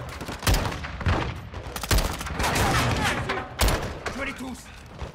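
Gunfire from the 2022 Modern Warfare II campaign: several loud, close bursts of shots and heavy thuds repeat irregularly over a rumbling battle bed, with a voice talking over the action.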